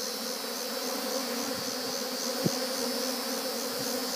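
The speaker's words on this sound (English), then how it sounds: "Just give them back to the bees." Honey bees buzzing around a bucket of wax cappings, a steady close drone of many wings with a faint tap partway through.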